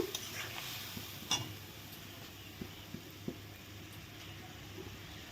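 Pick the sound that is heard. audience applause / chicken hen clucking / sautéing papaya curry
sautéing papaya curry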